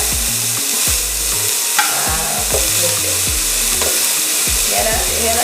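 Seafood and breadfruit sauté in a pan with a steady, close sizzle, while repeated scrapes and knocks of stirring cut through at an uneven rhythm.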